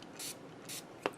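Two short hissing sprays from an aerosol can, each about a tenth of a second, followed by a sharp click, all fairly quiet and close.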